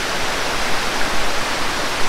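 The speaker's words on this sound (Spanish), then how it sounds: "Esta cascada es un poquito más alta y también se la recomiendo mucho para que vengan" A tall waterfall at Santa Rita nature reserve roars as a loud, steady rush of falling water that fills the whole clip, close by and unbroken.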